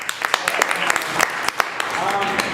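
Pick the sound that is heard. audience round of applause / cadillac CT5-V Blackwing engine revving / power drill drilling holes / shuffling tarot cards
audience round of applause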